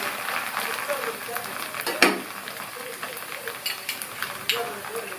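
Sweet poli sizzles and crackles steadily in an oil and ghee mixture on a pan, with a sharp clink partway through and faint background voice.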